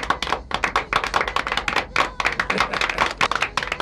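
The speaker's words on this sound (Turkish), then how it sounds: "Alkışlayın." A crowd applauds at a hotel signing ceremony in a Turkish village, dense continuous clapping from many hands, loud and close, filling the whole stretch without pause.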